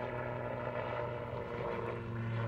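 An autogyro powered by a 115-horsepower Rotax 914 engine drones steadily at an air festival, a continuous, moderately distant propeller-and-engine hum with a faint tonal whine and no breaks.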